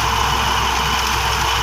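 A tractor engine drives a sugarcane crusher on a farm, a loud, steady low rumble that runs close and unbroken throughout.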